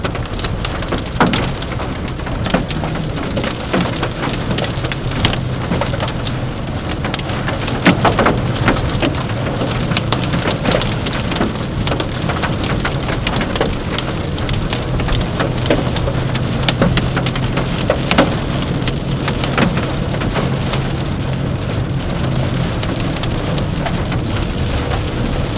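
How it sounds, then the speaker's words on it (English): Hail pounding a vehicle during a supercell storm in southwest Oklahoma, a dense, continuous loud clatter of sharp impacts over a low rumbling drone, unbroken for the whole stretch with no talk. "I don't know if y'all can hear that hail."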